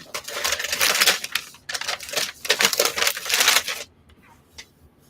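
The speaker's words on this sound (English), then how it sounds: "So a piece of tape here." Packing tape is pulled from a roll and pressed onto a shipping package, giving loud, crackling screeches in several close bursts, then a few quieter taps.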